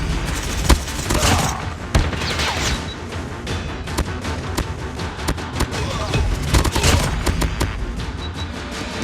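Rapid video game gunfire from the Switchblade weapon crackles in dense bursts with booms and crashes, loud and busy throughout, mixed with other game noise.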